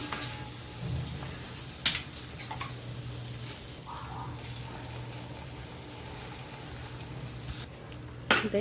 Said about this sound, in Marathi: त्याच्या आधी आपण टॅमॅटोची ग्रेव्ही टाकूया